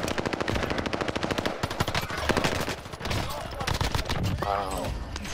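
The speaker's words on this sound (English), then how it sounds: "Bastard's trying to shoot me." Loud, rapid automatic gunfire in the video game Call of Duty: Warzone Pacific: a dense, steady stream of shots for about two seconds, then more scattered bursts and firing further off.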